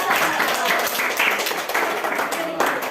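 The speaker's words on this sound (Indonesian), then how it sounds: "Tepuk tangan untuk kita." Classroom applause from a group of students, a dense patter of clapping filling the whole stretch at steady loudness with voices mixed in.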